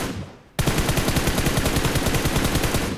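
Rapid automatic gunfire in the BGMI battle royale video game bursts in after a moment of quiet, a loud steady stream of evenly spaced shots that continues to the end without pause.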